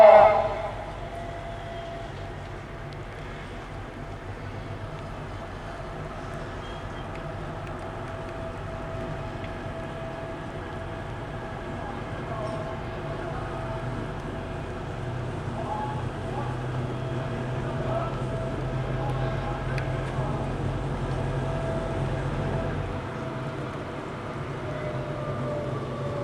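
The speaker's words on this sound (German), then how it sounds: "dieser Verbund fährt jetzt auf bis ganz hinter und setzt dann an die Loks wieder um Richtung Paradestrecke" A diesel locomotive set rolls along at a railway museum heating-house festival in Chemnitz-Hilbersdorf, a low continuous engine drone and rail rumble with a faint tonal whine, steady and moderately distant, with people talking in the background.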